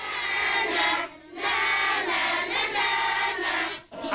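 Fifty children cheer loudly together in a TV studio, a dense sustained roar of young voices that breaks off briefly partway through and then swells again, stopping just before the end.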